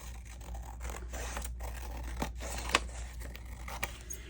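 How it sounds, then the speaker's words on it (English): Scissors trim a paper book title page folded into a pocket, producing soft crisp snips and scraping cuts at close range against a low steady background hum. "I'm going to go ahead and trim this."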